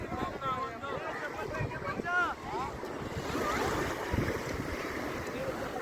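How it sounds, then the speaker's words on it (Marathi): Sea waves wash and surge continuously at Girgaon Chowpatty beach in Mumbai, with wind buffeting the microphone, while nearby voices talk over the steady roar of the surf. "तुम्हाला कॅमेरामध्ये दिसत असेल की समुद्राच्या लाटा वगैरे असे येत आहेत"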